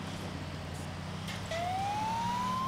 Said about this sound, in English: Probably shouldn't have the sirens on.